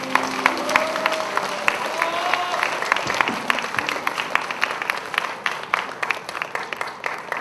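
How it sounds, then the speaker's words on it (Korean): Applause for God rises from a church congregation at a Korean worship service after a closing prayer, a dense mass of clapping filling the room steadily with faint voices mixed in. "우리 하나님께 영광의 박수 드립니다"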